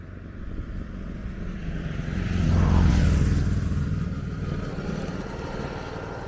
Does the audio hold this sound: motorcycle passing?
yes